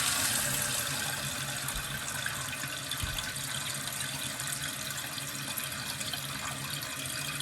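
Water rushes steadily into a toilet tank through a newly fitted Korky fill valve, a constant hissing flow with a couple of brief low knocks early on, close and fairly loud.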